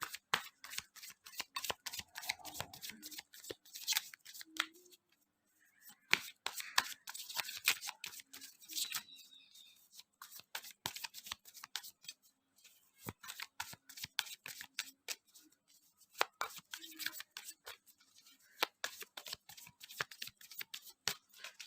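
Tarot cards are shuffled by hand at close range in repeated crisp riffling bursts separated by brief pauses, with no voice.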